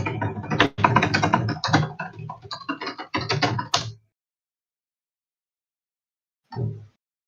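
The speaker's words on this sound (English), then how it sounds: "get ready for some keyboard ASMR" Bursts of rapid clicking from a computer keyboard during a live-streamed NCWC 2024 knockout, close and loud for about four seconds, then silence and one short final flurry.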